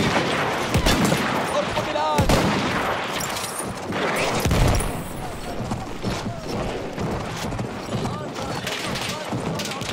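Enemy machine gun fire in Battlefield 1, with dense, rapid bursts crackling throughout amid battlefield clatter while a voice talks over the din.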